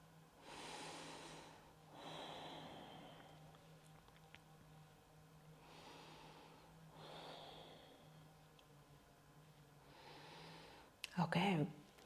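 Deep, slow yoga breaths repeat in a calm rhythm: soft, close inhales and exhales swell and fade roughly every couple of seconds, ending with a short bump.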